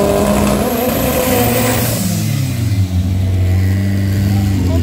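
A Volkswagen Voyage 4x4 does a burnout at a drag racing event in Cascavel, its engine roaring loud and close with a shifting pitch that dips and then settles into a sustained rumble, with tire and crowd noise underneath.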